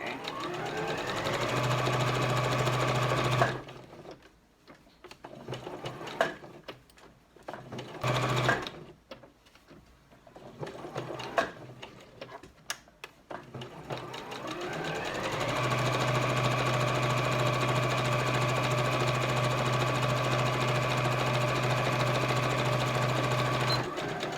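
A sewing machine stitches around glove fingers in a steady, fast rhythmic whir, pausing for several seconds of light clicks and handling between bursts before running long and continuously again.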